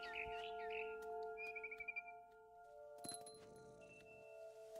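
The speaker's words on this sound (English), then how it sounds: "Then I heard chirping outside my window." Bird chirping in the video game What Remains of Edith Finch, a barn swallow outside a window giving a short run of quick tweets, fairly quiet over a steady background hum, then a clink near the end.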